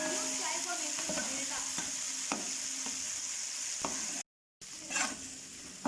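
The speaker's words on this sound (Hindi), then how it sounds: "ये चावल जो है मैंने 4 से 5 मिनट इनको घी में भूना है" Rice frying in ghee, stirred in the pan: a steady close sizzle with occasional scraping strokes, broken by a brief silent gap before the sizzle resumes.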